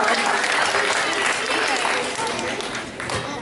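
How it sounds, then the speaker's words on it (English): Steady, dense applause from an audience at a live revue show fills the whole moment, a loud wash of clapping that fades slightly toward the end. "Round of applause."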